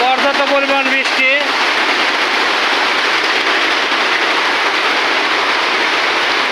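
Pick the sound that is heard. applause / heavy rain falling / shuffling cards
heavy rain falling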